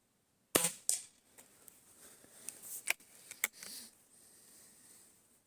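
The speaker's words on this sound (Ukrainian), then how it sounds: "Теж стріляю зі столу з опору, два опори." Several sharp, snappy air rifle shots from a Shanghai B1-1 firing 0.45 g pellets crack one after another in a quiet space, each a short dry pop with small clicks and rustles between them.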